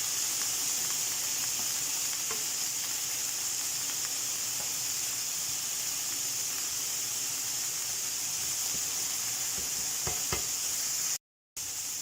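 Pork and chorizo fry in a pan, giving a steady, even sizzle with a soft hiss and a few faint stirring clicks, close and unbroken apart from a brief cut near the end.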